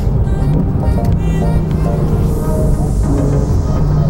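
A Porsche 911 C4S pulling away hard on a Southern California canyon road, a loud, close engine drone with a rising pitch as it accelerates.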